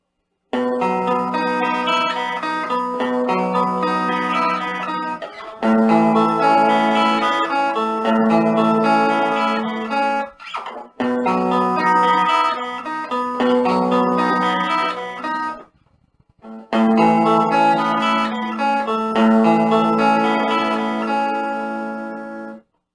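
An IYV IS-200 SB electric guitar strumming chords in several bursts separated by brief silences as pickup settings are switched, each section with a slightly different tone, loud and close.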